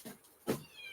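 A cat gives two quick meows close by, a softer one followed by a louder, drawn-out call, with nothing else sounding.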